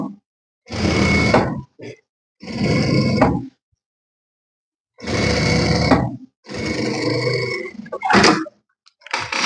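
A sewing machine stitches strips of fabric in several separate runs, each a steady buzzing whir lasting about a second, with silent pauses between them.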